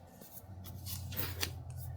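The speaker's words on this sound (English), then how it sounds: "I gotta go grab a different pair of scissors." Scissors snip and rasp through paper or card in a quiet room, a few close cutting strokes with a sharper crunch near the middle, no talking.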